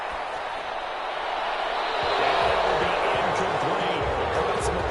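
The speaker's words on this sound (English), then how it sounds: "Some applause for the defense there." Football stadium crowd in a Chargers game rising into broad applause and cheering for the defense after a third-down stop, a sustained roar with a commentator talking over it.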